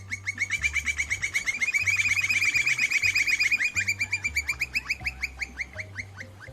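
A campo flicker woodpecker calling in open country, a long run of rapid, repeated loud notes in a steady rhythm that rises and then slowly fades, heard up close.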